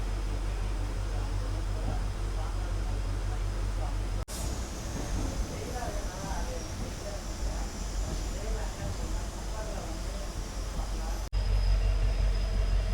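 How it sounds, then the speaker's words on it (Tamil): Passenger train from Chamarajanagar to Mysuru rumbling steadily along the rails, a continuous low roar with hiss from inside the SLR coach beside the engine, brief dropouts where the sound cuts, and a voice talking over it. "நம்மளுடைய ட்ரெயின் இப்போ பார்த்தீங்கன்னா ஷார்ப்பாக 10:40க்கு சாமராஜ நகர்லேருந்து டிபார்ட் ஆகி மைசூர் நோக்கி கிளம்பிருச்சுங்க."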